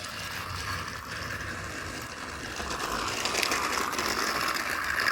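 Motorized Trackmaster Classic Gordon toy train engine running along a plastic track on a paint delivery set, giving a continuous buzzing whir with rattling wheels, steady and close throughout, gradually a little louder.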